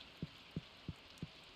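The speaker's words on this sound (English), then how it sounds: "Oh, and it's raining." Rain in the farming game Stardew Valley, a faint steady hiss of falling rain with a soft regular thump repeating about every third of a second underneath, no voices.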